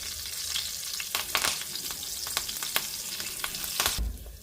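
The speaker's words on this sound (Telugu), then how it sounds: "ఇది ఇలా కలిపి కొంచెం లైట్గా వేగితే చాలు మళ్ళీ అవి వేగినప్పుడు ఎర్రగా అయిపోతాయి" Mustard seeds, dried chillies and curry leaves fry in hot oil, giving a steady close crackle and sizzle with sharp pops and spits scattered throughout, and no voices.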